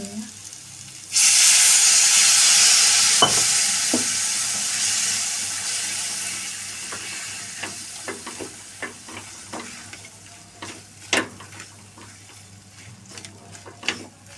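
Water poured into a besan and chili stir-fry sets off a sudden loud hiss and sizzle in the pan that slowly dies down, followed by scattered crackles and scraping stirs near the close.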